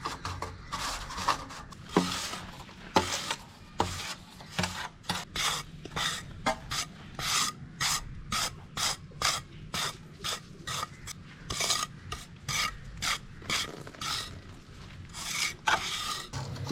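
Cement spread with a trowel along the underside of a washing stone, giving repeated close rasping scrapes in an uneven, stroke-by-stroke rhythm with no talk.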